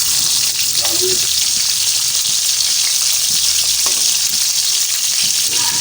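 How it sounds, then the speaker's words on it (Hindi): Chicken koftas frying in oil over a medium flame: a loud, dense, unbroken sizzle close by, with a couple of faint clinks, and no one talking. "बाकी इनको अच्छे से फ्राई कर लेना है।"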